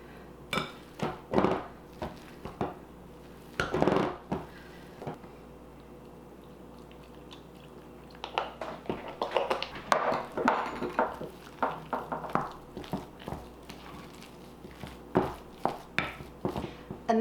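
A handheld masher working cooked potatoes seasoned with salt and soy milk in a pot: rapid, irregular squishy thumps and clatters in two bursts, separated by a quieter pause, close and fairly loud.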